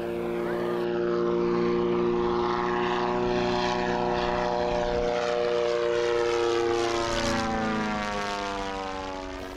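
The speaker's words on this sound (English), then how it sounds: "It's fun to make flybys like that because, as I said, you get to make lots of noise." An amphibian propeller airplane makes a low flyby at a fly-in, its engine drone swelling loud as it approaches and passes close overhead, with the pitch sliding downward before fading.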